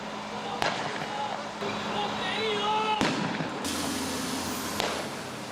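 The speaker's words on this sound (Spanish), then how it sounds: "Mientras estaba en el suelo, seguían las balas." Several sharp gunshot cracks from a real shooting in Chile, spaced irregularly, fairly near, under a noisy background with faint tonal sounds between them.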